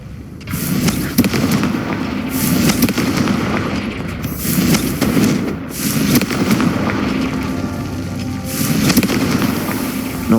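Confringo spell explosions in the Hogwarts Legacy game, several loud bursting blasts with crackling tails arriving in clusters, close and forceful over continuous ambient rumble.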